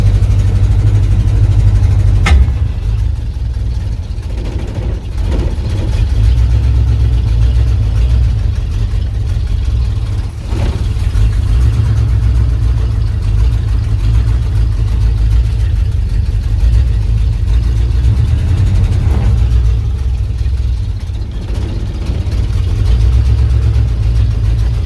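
A 1984 Ford F150 truck engine idles steadily at close range, a loud continuous low rumble with slight dips in pitch and level, running alone without talk.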